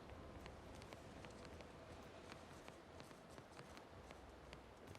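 Player character's footsteps in the video game The Outer Worlds, a quick, steady run of soft thuds over a constant noisy ambient bed, faint and evenly paced, no talk.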